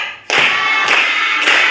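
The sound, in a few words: children clapping in counted claps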